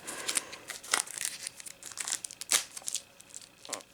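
Close, crinkly crumpling with sharp tearing bursts as Jumanji board game card packaging is cut and ripped open, irregular crackles peaking a few times and then settling.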